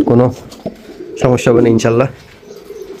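Pigeons of the Lahori, Shirazi and Giribaz breeds coo in short, rounded calls close by, woven among a man's speech.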